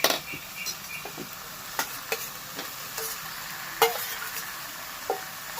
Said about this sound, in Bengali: এর মধ্যে এখনই দিয়ে দেবো ব্রকলিটাকে